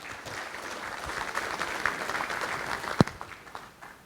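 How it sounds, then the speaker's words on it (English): Audience applause at a business council conference opening, a moderate steady patter of clapping across a hall, fairly soft and even, with one sharp louder clap near the end. "Let's give these young ladies a big round of applause."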